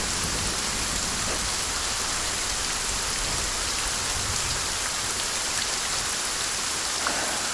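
Heavy rain pours in a dense, unbroken hiss, steady and loud from start to finish, with no voices.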